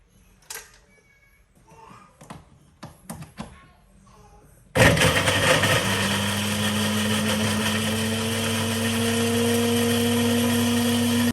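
A few soft clicks and knocks, then a kitchen blender starts up abruptly and runs loud and steady, its motor pitch rising slightly as it spins.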